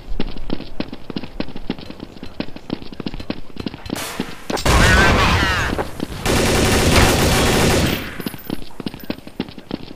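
Rapid automatic gunfire from Counter-Strike: Source on the Inferno map crackles in loud, dense bursts, with a continuous sustained volley in the middle.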